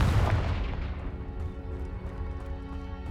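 The Confringo fire spell from Hogwarts Legacy goes off as a booming blast right at the start, then fades into a rolling rumble that lingers for a few seconds.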